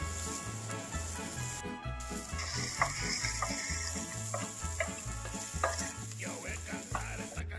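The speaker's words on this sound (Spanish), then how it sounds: "Cuando la cebolla cambie de color, le añadimos el ajo." Garlic dropped into frying onion sizzles softly and steadily in a pan, with light stirring clicks scattered throughout and a faint low background hum; no one speaks.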